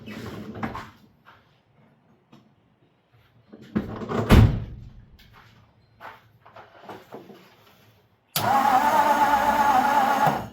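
A 1954 Ford engine cranks briefly with a sharp mechanical clatter, then after a pause catches and runs with a steady, loud idle roar to the end, with clanks and handling noises beforehand.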